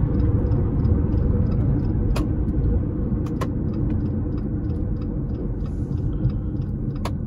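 A 2022 Jeep Compass Longitude T350 in a 0-100 km/h test with manual gear mode: a loud, steady engine and road rumble from inside the car, with a few faint clicks and knocks.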